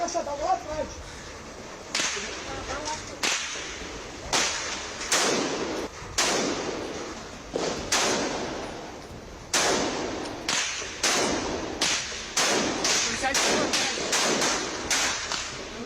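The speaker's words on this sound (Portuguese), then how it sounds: "Tenso tiroteio aqui próximo à nossa equipe." Gunfire in a shootout near a news crew, sharp cracking shots, some single and some in quick bursts, spread across about sixteen seconds, fairly close and loud.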